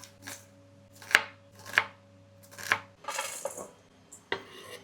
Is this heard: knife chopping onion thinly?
yes